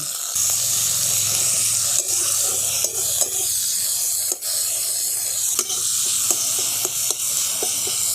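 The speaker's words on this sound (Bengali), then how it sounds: "দেখুন টমেটোটা একটু ভালো করে ভাজা ভাজা করে নিয়েছি।" Chopped tomatoes sprinkled with a little salt fry in a pan, giving a steady close sizzle and hiss with occasional stirring scrapes and taps throughout.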